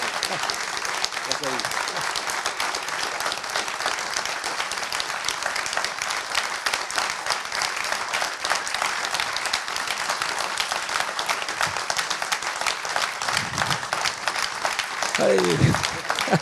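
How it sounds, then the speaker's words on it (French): Applause from the audience at a general assembly of Paris accountants: a long, steady wash of many hands clapping in a large hall, fairly even and moderately loud, with a few short voices calling out near the end. "Je crois que ça mérite des applaudissements."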